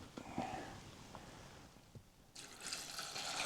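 Water splashes and trickles faintly at first over beans set to soak, then a steady rush of pouring water swells near the end, close by.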